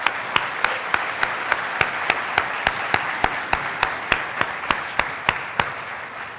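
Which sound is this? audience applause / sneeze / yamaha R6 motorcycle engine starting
audience applause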